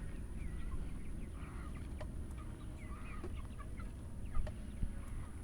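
Pastured chickens cluck softly and sporadically in an open grass field, faint and somewhat distant over a steady outdoor background hiss.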